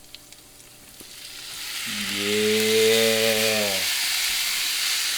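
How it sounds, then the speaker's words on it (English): Beef dropped onto softened onions in a hot pan for homemade beef shawarma, a steady loud sizzle and hiss that swells and holds, with a brief tonal whine in the middle and a single short spoken word. "basically what I'm doing right now is I'm just gonna stir fry it"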